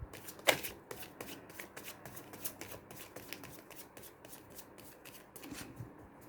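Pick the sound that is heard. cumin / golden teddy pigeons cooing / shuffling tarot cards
shuffling tarot cards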